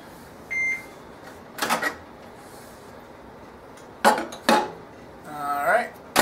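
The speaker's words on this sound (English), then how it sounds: "And then it goes back in the microwave." A kitchen microwave oven gives a short beep, followed by clattering as a pan and lid are handled and the door is worked. The sounds come in separate bursts over a quiet background.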